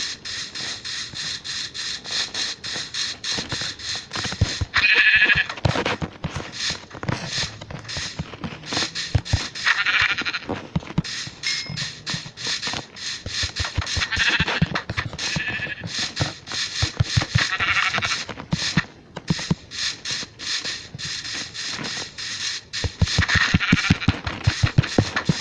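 Sheep bleat repeatedly in a Minecraft flat world, short game-style calls recurring over a steady background of game sounds and rubbing noise, fairly close and moderately loud with no talk.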